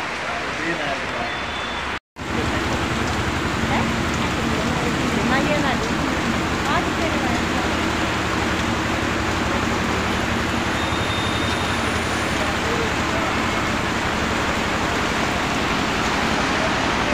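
Steady heavy rain roars without letup, a dense, close hiss with a brief dropout near the start and faint voices beneath.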